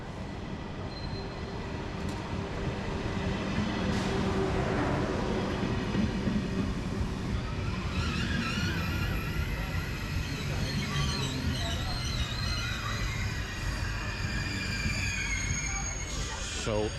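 An older Eurostar train rumbles steadily through Rotterdam Centraal station, with rolling wheel noise and faint high squeals, while voices murmur nearby.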